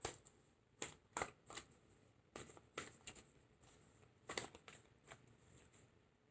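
A deck of tarot cards is shuffled by hand, close and quiet. Irregular soft riffles and sharp card taps come in bursts, with no talk over them.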